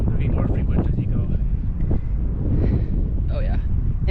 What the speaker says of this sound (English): It's windy up here and it feels really good